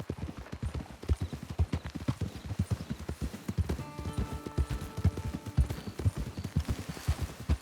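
Horse hooves clip-clop in steady rapid rhythm in the video game Red Dead Online, close and continuous, with a faint tonal ringing sound joining partway through.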